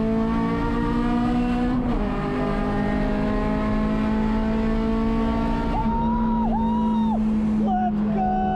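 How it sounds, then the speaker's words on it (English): An Acura RSX race car accelerates hard on track at Sonoma Raceway, its engine droning loud and steady with rising revs and brief shifts, heard from inside the car while the driver talks over it. "The car's pulling out nicely as I roll onto the throttle."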